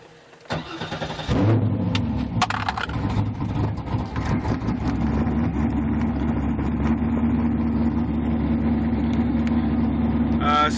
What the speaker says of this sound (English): I'm going to turn on the vehicle.